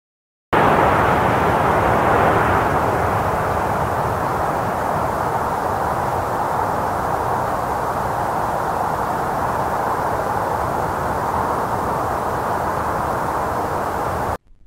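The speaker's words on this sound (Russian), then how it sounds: "Самолет." Airplane roaring steadily as a broad, loud rush of jet noise that holds almost unchanged for over ten seconds before cutting off.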